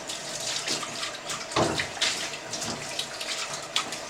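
Running water rinses film in a developing tank, a close, steady splashing flow with a few louder gurgling surges and drips, and no voices.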